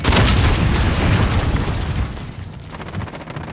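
A grenade blast in a Call of Duty battle booms loud and close, its deep rumble rolling on and slowly fading over a few seconds.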